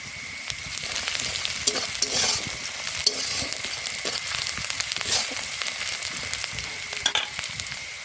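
Onions fry in oil in a pan in a village kitchen as a chicken chowmein dish is cooked. The sizzle stays steady and close, with repeated scraping stirs of a spatula.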